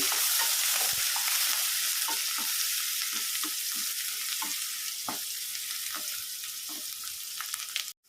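Dal and chopped onions stirred and frying in hot oil for a spinach chana dal dish, a steady close sizzle with repeated scraping strokes of a spoon against the pan throughout, no voices.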